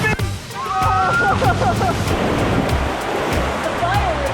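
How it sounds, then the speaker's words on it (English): Water crashes and splashes in a broad steady rush as a water slide ride passes through a big waterfall, with excited voices talking and shouting over the spray. "There's a big waterfall coming up."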